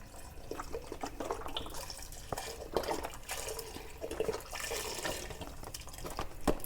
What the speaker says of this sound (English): now we're going to add in our broth